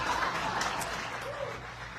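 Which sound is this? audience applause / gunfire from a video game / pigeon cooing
audience applause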